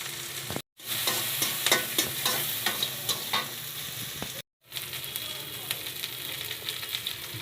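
Goda fish fried bhuna-style in hot oil with spices: a steady, close sizzle with crackling spits and occasional stirring scrapes, broken by two short silent gaps.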